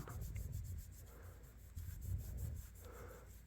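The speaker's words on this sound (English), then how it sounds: "you can just rub it off here, buff it out a little bit" A cloth rubs and buffs polish on a vintage Case Trapper pocket knife, giving soft rhythmic close-up strokes in repeated passes, quiet and without speech.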